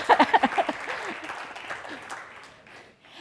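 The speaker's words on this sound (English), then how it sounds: "I want a round of applause here for Dan." A small group claps briefly at a 2021 CEO summit, a quick burst of applause that fades within a couple of seconds into quieter room noise.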